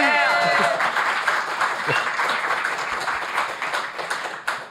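Studio audience applause on a French evening talk show, a dense steady wash of many hands clapping that fills the clip and tapers slightly toward the end, with a voice briefly audible at the start.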